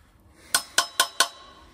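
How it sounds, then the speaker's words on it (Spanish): Four sharp metallic hammer strikes on a tool seated on the brake disc bolts of a Suzuki GSX-R 750 motorcycle wheel, evenly spaced and ringing briefly, close by in a quiet workshop. "Voy a dar un martillazo por si acaso"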